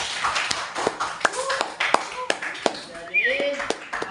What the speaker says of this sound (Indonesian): Tepuk tangan dulu untuk Rido.